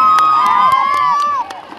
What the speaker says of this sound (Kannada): ಒಂದ್ಸಲ ಚಪ್ಪಾಳೆ ಬರ್ಲಿ